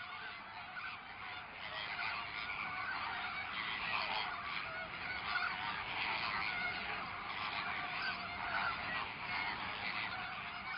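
Thousands of nesting pairs of pink flamingos call together on a small island in the Camargue, a steady goose-like honking and gabbling chorus blending into a continuous, moderately distant wash of sound.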